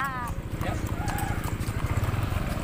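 A ridden horse clip-clops along in a quick, steady rhythm on the way to a plantation, the hoofbeats close and continuous beneath a buzzing engine-like drone, with voices chatting intermittently.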